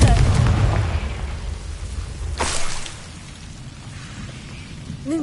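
A Confringo spell blast in Hogwarts Legacy, a loud booming burst at the start that fades into a rushing, crackling tail, with a second whooshing surge midway and a faint voice near the end.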